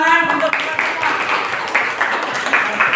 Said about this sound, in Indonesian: ayo kita tepuk tangan untuk kita semua